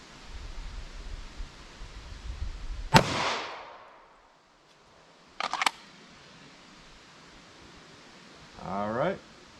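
One loud, sharp shot from a 9mm pistol firing a Winchester Silvertip round into clear ballistics gel, with a ringing decay, followed by a few quick clicks and a brief bit of talk.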